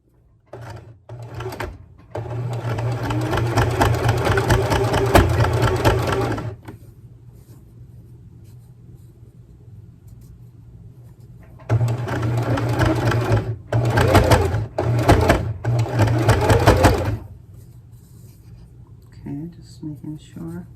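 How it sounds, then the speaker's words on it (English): A sewing machine stitches a half-inch French seam on fabric in two long, steady rapid-fire runs of several seconds each, with a pause between them and a few short stops and starts near the end. "I'm gonna go back on the machine and do a 1/2 inch stitch down"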